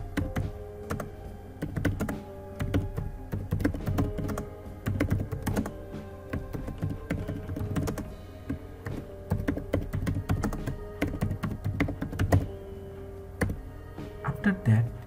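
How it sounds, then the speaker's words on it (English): Steady typing on a computer keyboard while entering SMS text, with quick irregular key clicks and occasional heavier thunks continuing throughout at close range, a voice speaking intermittently underneath. "in this box, you have to type the text of your SMS."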